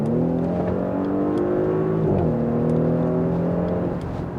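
An Audi SQ5 running on LPG revs up hard on an open road, its pitch climbing steadily through the gears with a brief dip at a shift, loud and close, no voices.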